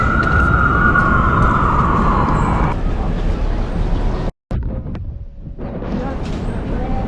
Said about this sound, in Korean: 아주 사이렌 소리가 이제 엄청 나죠